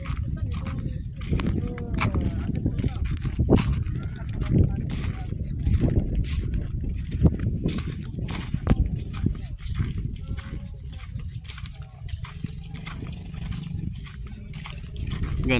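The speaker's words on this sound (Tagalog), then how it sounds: "kabayo" A horse walks near a dam, its hooves clip-clopping in an irregular stream of sharp knocks under steady outdoor rumble and voices talking nearby.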